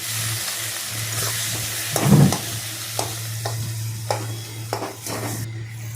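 Potatoes frying in a wok sizzle beneath a steady low hum, punctuated by several sharp utensil scrapes and knocks, one louder clatter near the start.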